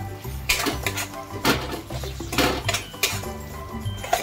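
Spoon clattering against a pan while stirring a turmeric and salt spice masala, with repeated metallic clinks and scrapes in a steady, close rhythm.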